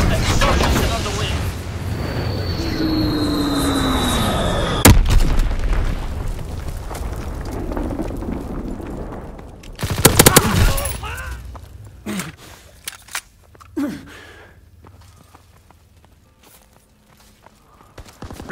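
Bombing and gunfire in the World War II shooter Call of Duty WWII, with a dense rumble, a sharp blast, then a burst of heavy explosions and scattered impacts fading into quieter clatter, with no speech.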